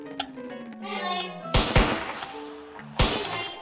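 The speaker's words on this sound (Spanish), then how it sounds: "¿Es año nuevo que suenan los cohetes?" Sharp firecracker-like gunshots in a Roblox Squid Game match crack out in a few loud, separate bursts over a quieter background of tones and game sounds.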